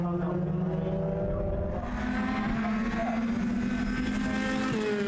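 Formula Ford race cars at Donington race past, engines droning with a steady high-pitched whine that shifts in pitch as they move through the corners, continuous and fairly distant.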